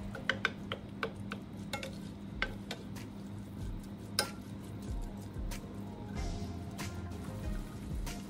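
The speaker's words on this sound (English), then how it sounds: "Cook the beef until it's golden brown." Beef mince cooks in a pan, with a steady low frying sizzle under repeated stirring clinks and scrapes of a utensil against the pan.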